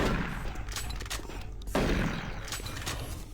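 Close-range shotgun blasts from the 2004 PC game Doom 3, two heavy booming shots about 1.7 seconds apart, loud and dense with rumbling low end and no talk over them.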